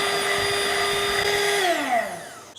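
Electric hand mixer beating cake batter as flour is added gradually, a steady loud motor whine with bright harmonics that holds, then drops in pitch and winds down near the end as the mixer is switched off.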